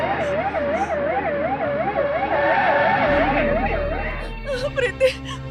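Ambulance siren in a Hindi-dubbed action film, a loud wailing tone that rises and falls in a regular cycle, close by, then trailing off as shouting breaks in near the end.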